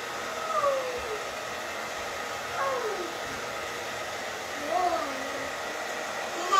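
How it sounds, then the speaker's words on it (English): A hair dryer blows with a constant close whooshing roar, its pitch wavering slightly as it is moved, while faint voices murmur underneath. "So I'm just going to blow dry for a minute."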